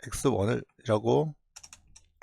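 A computer mouse clicks in BIM modelling software while a grid is drawn. A few quiet, close clicks follow a short stretch of speech.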